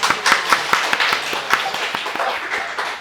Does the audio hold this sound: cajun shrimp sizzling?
no